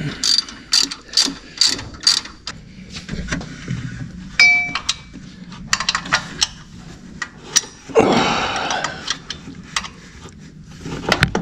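A hand ratchet works on bolts during a 1971 Corvette restoration, its clicking coming close in quick bursts with pauses between strokes, along with a few metallic clinks.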